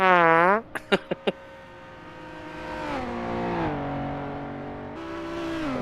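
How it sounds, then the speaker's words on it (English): Racing car engines, including a Jaguar and an Aston Martin, scream and rev up hard powering out of a hairpin at Dundrod, one high whine giving way to several rising, gear-shifting engine notes that build and hold strongly. "hearing both engines as the cars power out of the hairpin"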